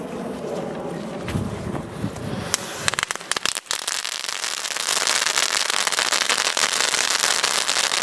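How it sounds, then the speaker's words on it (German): Knatterpeitschen crackling whip firecrackers, a legal German black-powder type, going off outdoors in dense rapid crackling bursts with a sharp pause near the middle, then a continuous loud, fizzing crackle with wind noise. "Knatterpeitschen."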